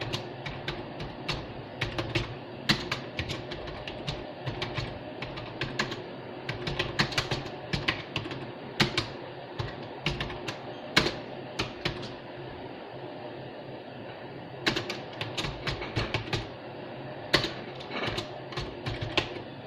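Steady typing on a computer keyboard, entering book titles and author names for an HTML exercise, with close, rapid key clicks in uneven bursts and short pauses throughout, no voices.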